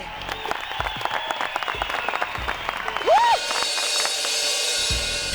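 Applause from a studio audience in a comedy show rises as a steady patter under music and a brief sung or tonal voice, lasting several seconds at moderate loudness.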